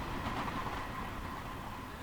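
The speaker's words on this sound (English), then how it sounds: "excellent sound there of the trains on the track" Trains running on a track at night in the snow, heard as a faint, distant, continuous rolling rumble with no distinct clacks.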